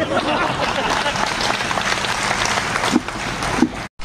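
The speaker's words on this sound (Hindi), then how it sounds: "और तालियां बजिए" An audience bursts into loud, dense applause mixed with crowd babble, sustained for a few seconds before cutting off abruptly near the end.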